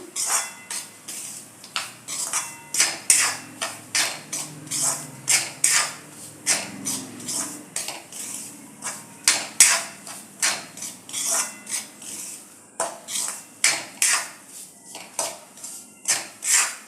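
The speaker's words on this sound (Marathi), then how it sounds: "आता शिरा इथं रवा आपण भाजतोय" Semolina is roasted and stirred in a pan for a sweet sheera made with ghee, giving repeated scraping and clinking of a spoon against the metal pan in an uneven, close rhythm.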